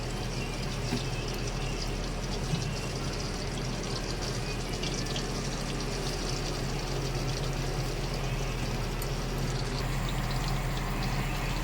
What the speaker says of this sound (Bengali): এইভাবে আমি পানিটাকে ভালোভাবে নিচড়ে নেব, যাতে সয়াবিনের মধ্যে একটুও না পানি থাকে।